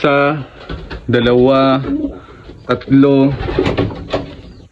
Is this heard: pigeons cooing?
yes